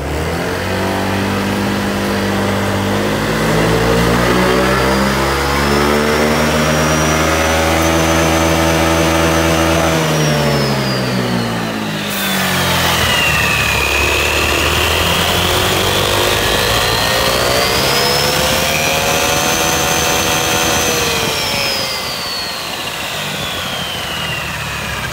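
A tuned Honda Air Blade 125i scooter with a modified clutch, capable of about 155 km/h, revs loudly and close by, its engine pitch climbing and falling in two long sweeps, with no talk.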